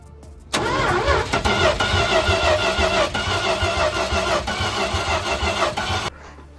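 A Dodge D200 pickup truck engine cranks and catches, then runs loudly and roughly for several seconds before cutting off abruptly.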